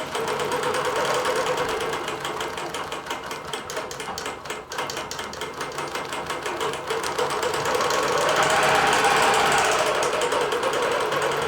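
A computerized sewing machine quilts a vines-and-berries border with a size 90 topstitch needle at full speed, giving a steady, fast mechanical clatter that runs unbroken throughout, close and fairly loud, with no voices.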